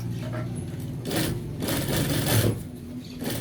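A sewing machine stitches a gents' shirt collar, its motor giving a steady close-up whir with fast rhythmic needle chatter that swells and eases over a few seconds.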